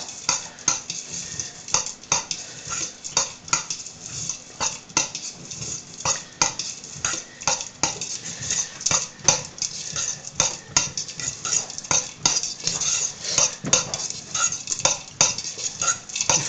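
Wet seeds mixed in pots with utensils, making a busy run of clicking, scraping and rattling strokes at a close, moderate level with a steady uneven rhythm and no voices.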